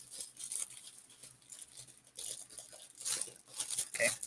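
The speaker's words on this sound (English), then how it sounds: "Try to hold it down here so there's not so much rustling on the mic" Plastic packaging of a horror-themed loot box crinkles and tears as it is opened by hand close up, in irregular bursts of rustling and ripping separated by quieter pauses.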